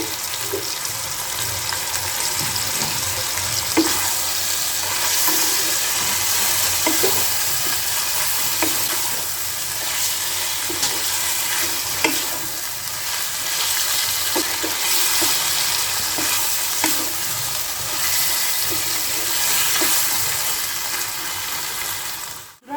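Chicken pieces frying in a pan with a pinch of turmeric, a loud continuous sizzle with scattered clinks and scrapes of stirring throughout.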